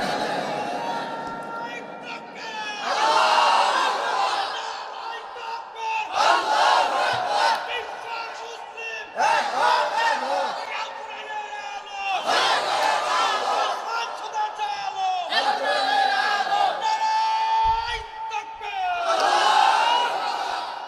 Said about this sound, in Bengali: যারা যারা রাজি আছি দুহাত উত্তোলন করে তাকবীর দিয়ে আল্লাহকে দেখাইয়া দেন